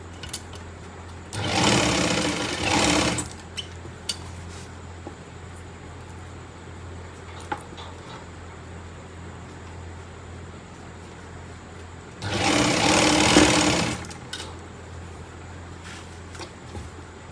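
Two short bursts of a sewing machine stitching palazzo pants, each about a second and a half long, loud and close, separated by a long quiet stretch of low room hum.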